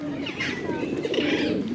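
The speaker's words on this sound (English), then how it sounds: "It's a pretty bird, man." Birds at a feeding spot in Hyde Park, London give soft, close cooing and chirps under people talking nearby.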